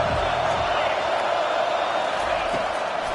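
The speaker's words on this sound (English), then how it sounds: "Decibels rising as the crowd gets behind this defense on third down" Stadium crowd roaring at a college football game as fans back the defense on third down, a dense, steady wash of noise filling the space throughout.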